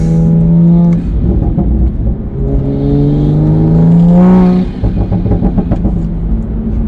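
A tuned Toyota A90 Supra engine idles and revs nearby, its exhaust giving a deep, loud rumble with burbling, popping pulses as the revs rise and fall.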